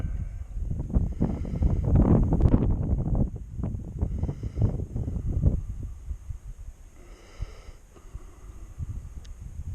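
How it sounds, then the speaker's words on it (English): Gusty wind buffets the microphone over an orchard in a steady, loud rumble that swells and eases over several seconds. "but it is pretty windy."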